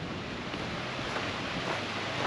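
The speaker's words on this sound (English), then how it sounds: "Look at that water going underneath the building." A constant rushing wash of creek water flows beneath a large old livery stable building in Silver City, Idaho, broad and steady with no voices.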